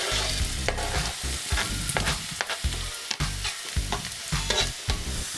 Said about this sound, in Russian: Обжариваем наш лук до состояния, пока он не станет мягким и золотистым